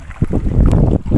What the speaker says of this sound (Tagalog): masyadong malakas yung hangin kasi ayun, tingnan nyo